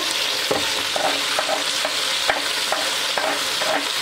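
Sliced onion and garlic sauté in the bowl of a Cookeo multicooker, giving a dense, loud, steady sizzle with regular spatula taps and stirring knocks about every half second, and no voices.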